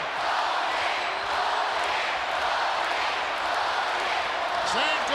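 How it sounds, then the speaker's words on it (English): A standing-room-only arena crowd at a WWE wrestling match between Undertaker and Hulk Hogan roars and chants continuously, a dense wash of massed voices with scattered claps. "Chant goes out by the standing room only crowd."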